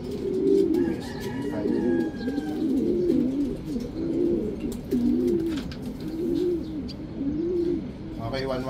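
Racing pigeons at a derby loft coo in repeated low, rolling phrases, close and steady throughout, with faint background noise and a brief higher sound near the end.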